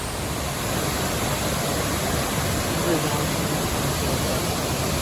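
Steady, loud rushing of a waterfall on the Brecon Beacons four waterfalls trail in the Fforest Fawr mountains, a continuous broadband roar filling the whole stretch without pause.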